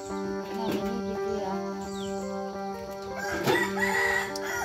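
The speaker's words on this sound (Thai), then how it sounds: "น้องไก่บอกให้ตื่น" A rooster crows in the morning near rice fields, one loud drawn-out call rising and falling over steady rural background noise, with a second crow starting toward the end.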